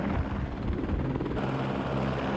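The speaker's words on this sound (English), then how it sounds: "That's the kind of helicopter that brought us here, and hopefully will take us back" A helicopter flies over a glacier in Alaska, its rotor thumping and engine roar loud and continuous throughout, steady and close with no talk over it.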